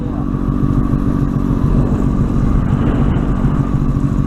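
A motorcycle engine running steadily close by as the rider pulls the clutch in, a loud continuous low rumble with no voices.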